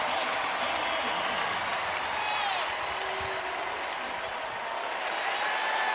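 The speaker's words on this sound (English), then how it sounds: "finally the crowd's starting to come alive" Crowd noise at a Kentucky college basketball game swells into steady applause and cheering, a dense sustained roar filling the arena throughout.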